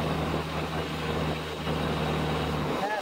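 A 2000 Dodge Cummins diesel truck with about 165k miles and a slipping transmission drones with a steady low engine hum from inside the cab, a shift in tone near the end.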